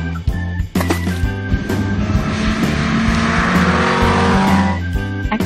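A racing car engine roars steadily for about five seconds, loud and close, with a strong low drone and rising tones near the end, set over a repeating toy-like musical backing.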